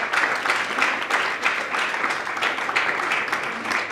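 An audience applauds at an evening gathering, steady massed clapping that stays at an even level for a few seconds, heard from within the crowd.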